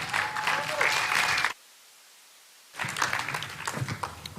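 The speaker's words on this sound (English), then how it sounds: "please give her another warm round of applause" An audience claps steadily, the applause cut by a short silent gap before resuming just as loudly.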